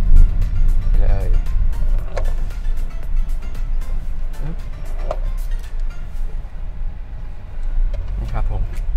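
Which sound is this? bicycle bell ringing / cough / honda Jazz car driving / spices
honda Jazz car driving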